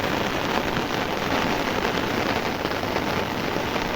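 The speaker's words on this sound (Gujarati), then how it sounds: "પણ આમ બહુ ભયાનક વરસાદ છે" Heavy, frightening rain pours down outdoors where buffaloes are kept, a dense unbroken hiss of water drumming on surfaces, loud and continuous with no voices.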